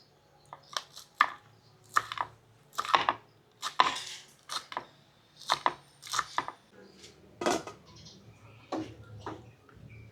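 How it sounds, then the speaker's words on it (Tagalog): A knife cuts green chili in half on a cutting board, giving a quick series of sharp, close taps at an uneven rhythm, fairly quiet and with no voices. "Tapos ito pong siling green. Hiwa tayo ng dalawa para may kaunting anghang."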